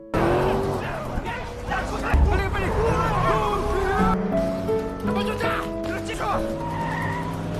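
Cars in a film car chase: engines roar as tires squeal and skid through a busy stretch, under voices, background chatter and a barking dog.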